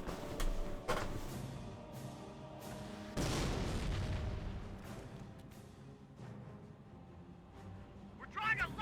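Booming artillery and gunfire in the video game Company of Heroes, scattered heavy blasts with one long rumbling explosion in the middle, moderately quiet, with radio-style voices talking over the battle.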